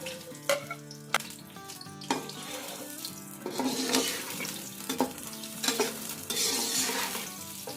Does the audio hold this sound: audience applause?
no